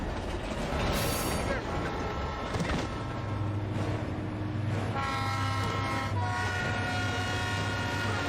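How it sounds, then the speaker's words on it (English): A passing train in a TV show, a loud, steady rumble of rail cars with horn-like tonal blasts rising over the roar for the whole stretch, and voices faintly beneath. "Dawn is on the train tracks and I hear the train."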